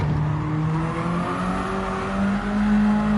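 Peugeot 205 GTI in Gran Turismo 7 holding a loud, steady high-rev engine drone at around 220 km/h in fifth gear, wheels spinning, with a sustained tire whine under the engine note.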